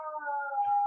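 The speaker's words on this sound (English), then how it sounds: "And then I was like, I feel like that's a dog." A dog howls in a long, steady, wavering tone that sounds much like a siren, held close and clear for about a second with no talk over it.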